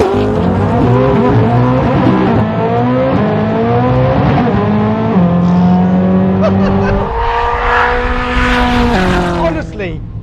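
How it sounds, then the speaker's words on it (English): A hypercar engine screams close and loud, climbing repeatedly to its rev limiter with rising harmonic tones and quick gear changes as the car accelerates hard, with some tyre noise. "I just keep smashing into the limiter. I can't pull the paddles fast enough because the way this engine revs"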